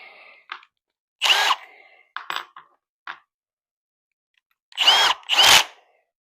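A cordless drill in a home workshop gives several short whirring bursts separated by silence, two louder close pulses near the end, plus a few small clicks, with an extra noise as it rests on its speed selector.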